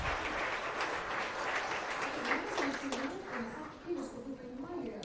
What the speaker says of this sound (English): Dear colleagues, let's give a round of applause.